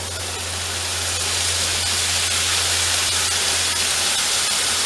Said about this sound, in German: nehmen wir zu dem angerösteten Gemüse ein bisschen Kokosmilch